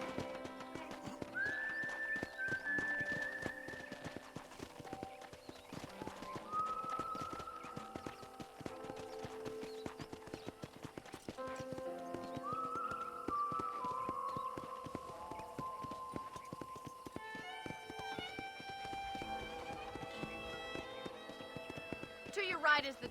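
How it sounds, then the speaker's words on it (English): A horse runs with rhythmic hoofbeats and occasional whinnies in the video game Red Dead Redemption, while a person talks over a steady musical backdrop. "let's see if you can still ride a horse"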